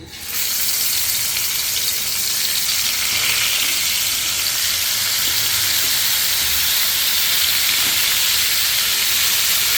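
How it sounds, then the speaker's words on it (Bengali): Koi fish frying in hot oil in a frying pan, a loud, steady sizzle and crackle that holds throughout with no voices. "এখন আমি মাছগুলো ভাজার জন্য দিয়ে দেবো"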